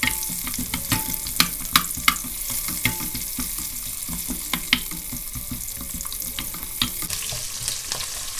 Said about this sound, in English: Turn the heat to medium-low and add onions,